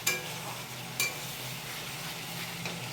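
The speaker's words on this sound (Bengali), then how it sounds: "এই যে মশলাটা কষাচ্ছি, আদা জিরা দিয়ে মশলাটা কষিয়ে নিচ্ছি" Spice paste with ginger and cumin fries in a pot for a vegetarian potato and tomato curry, giving a soft, steady sizzle broken by two sharp utensil knocks near the start and a fainter tap later.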